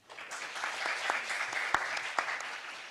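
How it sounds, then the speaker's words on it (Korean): Warm applause rises from a forum audience greeting a speaker, building quickly to a steady patter of many hands with a few sharp, close claps standing out. "선우 박사님을 뜨거운 박수로 맞이해 주시기 바랍니다"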